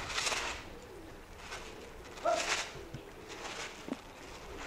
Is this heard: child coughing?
no